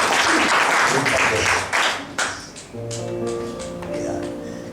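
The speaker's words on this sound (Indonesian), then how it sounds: "Kita beri tepuk tangan dulu buat Tuhan." A church congregation bursts into loud, dense applause for a couple of seconds, which then fades into musical tones and a voice.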